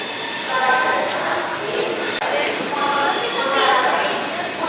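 Busy railway platform ambience at Varanasi station with a broad steady roar of the Bareilly Express train and station noise, crowd chatter and voices mixed throughout.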